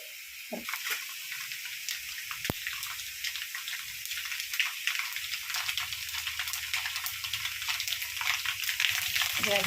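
Mustard seeds spluttering in hot oil, a dense, crackling hiss dotted with rapid little pops that grows busier over several seconds, close by and without talk.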